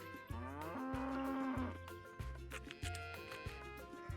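Cattle mooing in a farm video game: several deep, drawn-out moos repeat in a steady rhythm over layered tonal game sounds, close and fairly loud, with no talking.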